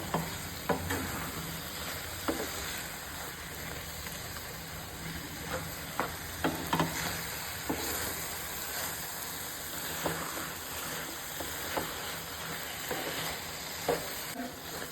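Chopped cashews are stirred into a sweet mixture cooking in a pan: a soft steady sizzle with regular spoon scrapes and light knocks every second or so, near and fairly quiet, no speech.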